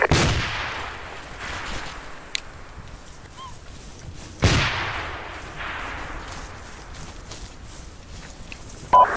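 Two heavy booming blasts, a grenade explosion and gunfire in the combat video game Arma 2, each with a long rumbling decay, about four seconds apart, with scattered fainter shots between them.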